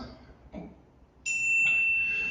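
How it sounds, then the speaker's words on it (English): A workout timer bell during a home push-up session sounds as a single bright sustained electronic tone that starts partway through and rings steadily to the end over faint room noise. "There's that bell."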